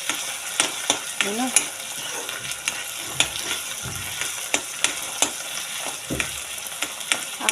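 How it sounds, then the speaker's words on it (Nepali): Vegetables and tomato frying in a pan while being slowly stirred, a steady sizzle broken by repeated scraping strokes of the utensil, close up; a brief word is spoken at one point. "मैले चाहिँ टमाटर पनि हालिदिएँ यसरी बिस्तारै चलाउँछु"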